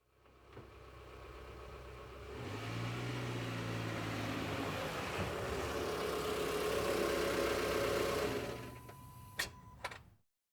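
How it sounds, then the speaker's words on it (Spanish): A car engine idles and rumbles near a house as it approaches, a steady low drone that swells, holds for several seconds, then cuts off with a couple of sharp clicks at the end. "escuché el sonido de un auto acercándose hacia la puerta de la casa"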